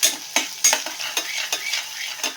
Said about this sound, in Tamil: போட்டு நல்லா வதக்கிக்கோங்க ஒரு வெங்காயம் நல்லா வதக்கலாம்